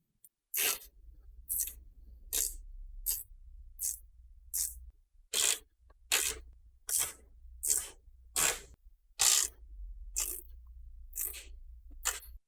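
Removing T8 Torx screws from a launch PlayStation 4 Pro console, a series of about fourteen short, crisp clicking and squeaking bursts at a regular pace over a low hum, close and with no talk.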